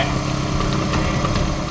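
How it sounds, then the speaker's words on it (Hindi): A motorbike engine runs close by at a steady mid-pitched rumble with a slight swell near the middle, heard alone without voices. "ये कौन जा रहा है बाइक पे?"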